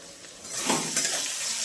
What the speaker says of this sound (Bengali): এবার ভালো করে কষে নেব, আদা রসুনের কাঁচা গন্ধটা যাওয়া অবধি কষে নেব